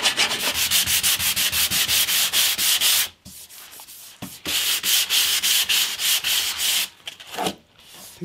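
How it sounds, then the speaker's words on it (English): A bass guitar part is filed down by hand with quick, even rasping strokes that go on for a while. Two short pauses break the run of strokes. "let me just file this down"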